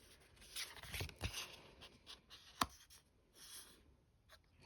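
Thick, cardboard-like tarot cards with yellow gilding being handled: soft, close scrapes and rubs with a couple of sharper clicks and slides, quiet and alone.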